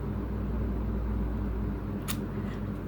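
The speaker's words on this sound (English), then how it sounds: "I'm sorry that you can probably hear the fan" Electric fan running on a hot day indoors, a steady broadband whooshing hum with a low drone that holds constant throughout, with one brief bright tick partway through.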